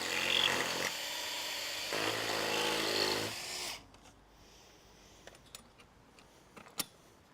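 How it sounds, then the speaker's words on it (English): Power drill boring into a timber base rail for bolts, close by: two loud whirring bursts of about two seconds each, then quiet handling clicks and a few sharp knocks. "we're going to actually drill and bolt on the other side to the corner bracket"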